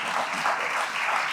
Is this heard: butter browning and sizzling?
no